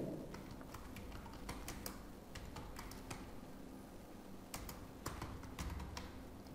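Rapid keystrokes on a computer keyboard while typing in MS Word, quiet, irregular clicks in short bursts over a faint background hum.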